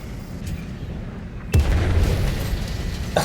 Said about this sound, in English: Glad to be shot and set on fire by Artie.